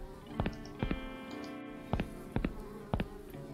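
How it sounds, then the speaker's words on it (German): Wasps in Randal's Monday buzz faintly and steadily, with soft rhythmic ticking clicks repeating over the hum. "Da sind Wespen drin."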